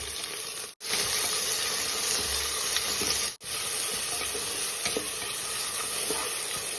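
Chopped onions sizzle in hot oil in a pan while being stirred, a steady close hiss and crackle with scraping touches, broken by two abrupt momentary cuts.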